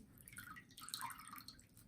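Water drips from a soaked sponge held up as a model rain cloud in an indoor weather demonstration, giving soft, faint patters and trickles with no talk over them.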